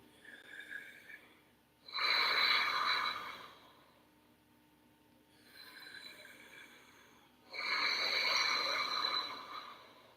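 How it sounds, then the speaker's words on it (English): Ujjayi breathing during an Ashtanga yoga class for beginners: slow, loud, hissing breaths drawn through a narrowed throat, alternating long inhales and exhales, close and steady with no talk. "So when we breathe the Ujjayi"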